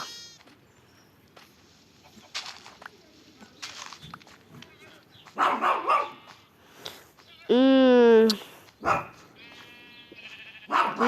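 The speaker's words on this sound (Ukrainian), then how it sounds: "ті пси, коти гавкають, мявкають" Sheep or goats bleat loudly in a few wavering calls amid scattered barking from dogs, with someone talking intermittently over the animals in a quiet farmyard setting.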